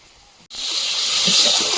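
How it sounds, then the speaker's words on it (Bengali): Fish curry bubbles and sizzles in a pan, a steady close hiss with soft popping that starts abruptly after a brief quieter moment. "তরকারিটা ফুটছে"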